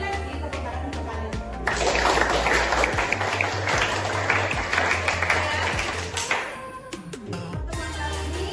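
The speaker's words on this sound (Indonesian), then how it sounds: "Sekali lagi tepuk tangan untuk kalian." Students applaud a teacher's closing remarks, breaking into a burst of dense, steady clapping that fills the room for several seconds and then fades away. A low hum sits underneath throughout, and there are scattered knocks before and after.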